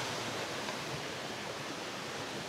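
A river runs with small waterfalls along its course near Catmon Falls in Magallanes, Cavite, giving a continuous even rush of water, soft and uniform throughout.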